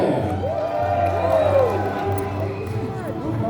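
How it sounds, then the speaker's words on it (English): Spectators at a Medieval Times show cheer for Princess Catalina, a sustained roar of voices with rising and falling whoops, moderately loud and steady before gradually easing off. "Raise a cheer."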